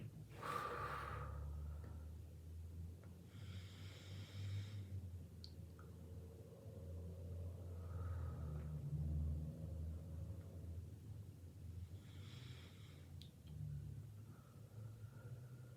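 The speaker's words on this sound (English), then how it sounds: "take 3 deep breaths with me" Slow, deep breathing: several long inhales and exhales, soft and close, spread across a quiet stretch with no talking, under a low steady background hum.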